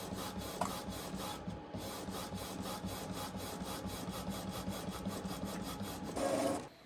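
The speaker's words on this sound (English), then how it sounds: "and your printer will print your project" A Sawgrass sublimation printer runs a print job, a steady mechanical whir and rubbing rasp with faint rhythmic ticking, close and continuous throughout, ending in a slightly louder pass.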